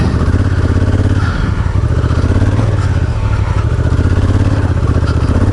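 A Honda Africa Twin adventure motorcycle climbs uphill on a dirt trail, its engine droning loud and close with a steady, rough, throbbing note that holds throughout.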